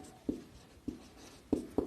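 Chalk or marker strokes tap and scrape on a board as equations for a class 9 maths lesson are written out, with four short, distinct strokes close by in quiet surroundings.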